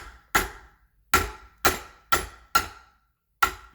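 A hammer strikes a screwdriver to punch the knockout plug out of a garbage disposal during installation, six sharp metallic blows at irregular intervals, close by and alone.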